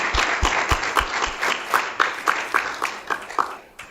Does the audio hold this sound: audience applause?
yes